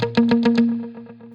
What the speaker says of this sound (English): choose the mute guitar as our playing style